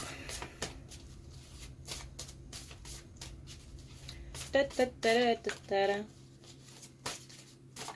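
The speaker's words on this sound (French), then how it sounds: "Donc pour une fois, je tire les cartes devant vous." Tarot-style cards being drawn and handled for a card reading, with soft repeated shuffling and sliding taps throughout, near and quiet, while someone talks briefly in the middle.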